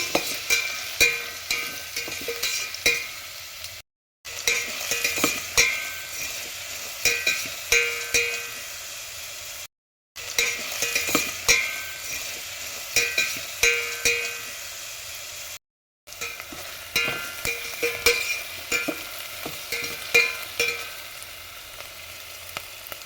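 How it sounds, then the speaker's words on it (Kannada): Green chillies and chopped onions frying in hot oil for a chickpea usli: a steady close sizzle with rhythmic scraping and clinking of a stirring spoon, broken by three short silences. "ಇದು ಎಣ್ಣೆಲ್ಲ ಸ್ವಲ್ಪ ಟೈಮು ಫ್ರೈ ಆಗಲಿ"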